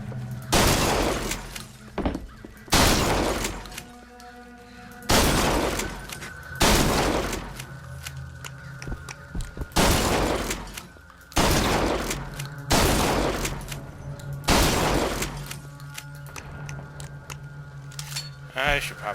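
Bioshock Infinite gunfire: a series of loud, booming shots spaced a second or two apart, each with a crashing decay, over quieter game ambience.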